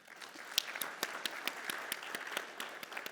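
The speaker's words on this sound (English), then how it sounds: "A big round of applause to the ASI advisors in the room." An event audience applauds the ASI advisors, a dense, even patter of many hands clapping at close range, with a few sharper individual claps standing out.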